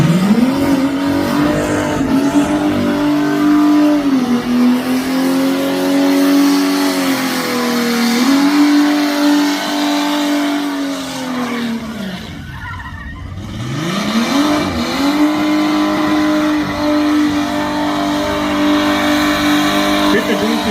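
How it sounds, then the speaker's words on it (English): A car at a motorfest revs hard and whips around a tight corner, its mid-pitched engine climbing and falling through the turn with a brief dip before surging again, loud and close, with people talking alongside. "I really like cars whipping it around into that corner."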